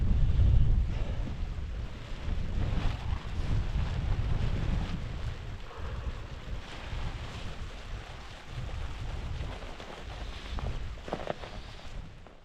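Strong wind gusts and buffets a microphone outdoors while a Lanshan 2 tent is pitched, a loud, rough rumble that swells and eases throughout without talking.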